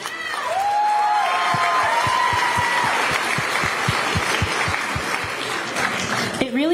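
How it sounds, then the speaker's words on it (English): A crowd at a talent show claps steadily in loud applause, with some cheering over it. "we'd like to hear a huge round of applause"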